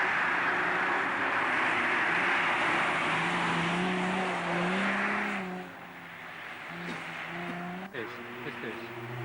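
An Alfa Romeo rally car on the Rally Monte Carlo roars past nearby, loud engine and wash of noise for several seconds, then fading to a lower engine drone with a few changing revs.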